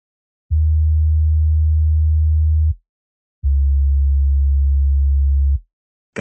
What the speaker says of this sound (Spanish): Un buen bajito para el inicio.